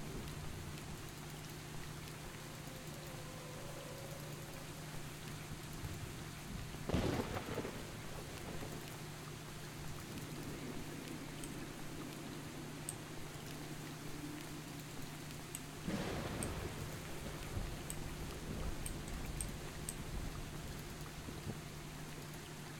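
Rain patters steadily in the S.T.A.L.K.E.R. Shadow of Chernobyl game menu, with two deep rolls of thunder breaking through it, one about a third of the way in and another past the middle.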